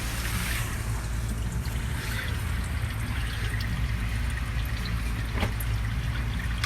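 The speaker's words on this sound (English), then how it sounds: "I guess we're draining the coolant right now" Coolant draining from a 2005 diesel engine, a steady liquid trickle and pour running continuously under a constant low engine-bay rumble, with no talk.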